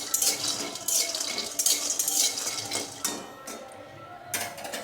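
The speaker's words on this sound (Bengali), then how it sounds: "কড়াইয়ের মধ্যে এবার দিয়ে দেবো হচ্ছে বাদাম। শুকনো কড়াইয়ে বাদামটা একটু নেড়ে" Peanuts dry-roasting in a kadai rattle and scrape as a spatula stirs them against the metal in quick, repeated strokes, close and clattery, with no voice.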